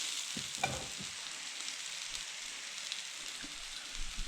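Chorizo frying in a pan with potatoes and gnocchi gives a steady, soft sizzle throughout, with a few faint stirring clicks and scrapes near the start.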